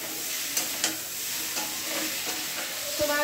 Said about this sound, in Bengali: চিচিঙ্গে ভাজা।